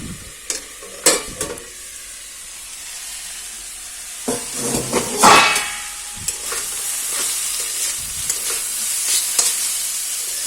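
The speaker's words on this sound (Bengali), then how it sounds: "আর এখানে হচ্ছে চাল কুমড়োটা ভাজা" Ash gourd frying in a pan in a home kitchen gives a steady, soft sizzle broken by several sharp stirring and scraping bursts, close and fairly loud, with no voices.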